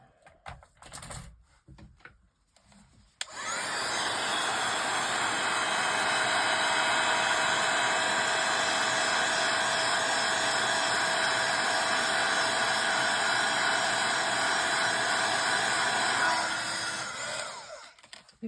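A blow dryer runs on artwork as a steady, loud whooshing hiss for about thirteen seconds, then switches off. Faint handling sounds come before it.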